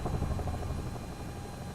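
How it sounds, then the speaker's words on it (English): Two-blade helicopter rotor slap from MSFS 2024 during a Mt Fuji flight, a steady low throbbing drone with dense rhythmic pulsing that stays loud and even throughout, no talk. "That sounds like a two-blade rotor slap"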